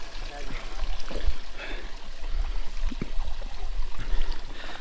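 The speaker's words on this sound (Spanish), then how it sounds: "aquí estamos rellenando nuestra botellita" Spring water pours and trickles from a mountain stream into a bottle on the Preikestolen trail above Lysefjord, Norway, a steady close splashing under outdoor noise.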